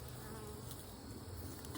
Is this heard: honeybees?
yes